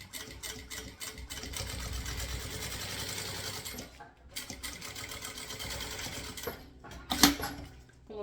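Sewing machine stitching a thermal bottle bag, a fast rattling run of stitches that starts and stops in bursts, close and fairly loud, with someone talking over it.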